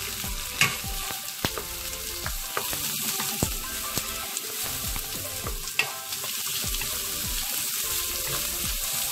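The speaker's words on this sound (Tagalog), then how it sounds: "Ngayon, isunod na rin natin yung ating sibuyas." Onions sizzling and frying in a pan for a mackerel curry, with a steady hiss throughout and repeated sharp scrapes and taps as they are stirred, close and fairly quiet.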